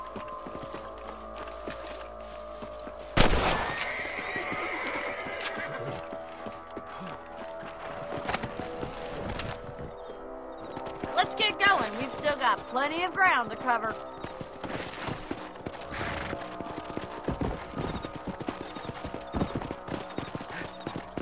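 Horse hooves clip-clop in the Red Dead Redemption video game, a sharp impact early and then steady trotting, with a whinny partway through and a voice speaking over the riding.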